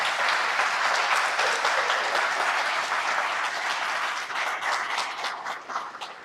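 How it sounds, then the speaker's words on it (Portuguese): Audience applause for the hosts at a training session for formators, a dense, steady clapping from a room full of people, close and sustained throughout, thinning slightly toward the end. "Vamos dar uma salva de palmas a elas"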